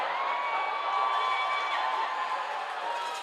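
Crowd noise from spectators at a minor-league ice hockey game between the Biloxi Breakers and Twin City Thunderbirds, a steady wash of cheering and shouting held at an even level with no talk over it.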